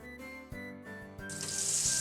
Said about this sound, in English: Let's fry it!